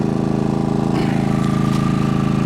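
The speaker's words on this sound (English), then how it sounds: "Now I'm running the generator simply." A small gasoline generator runs steadily nearby, a loud, even chugging engine drone with a quick rhythmic pulse and a brief clatter partway through, with no talking.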